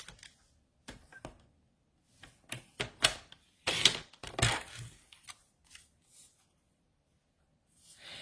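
Scissors snip paper poinsettia petals in a quiet room, giving scattered short cuts and crisp clips with pauses between them.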